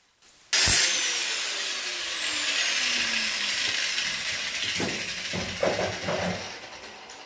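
A power tool cuts through a bicycle part, starting abruptly with a loud, steady high-pitched grinding whine that holds for several seconds, then wavers and breaks into uneven bursts near the end, with no talk.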